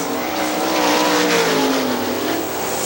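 Loud, high-revving engines of sprint cars roar past on Hartford Speedway Park's track during a 2001 race, the pitch rising and falling as they speed by.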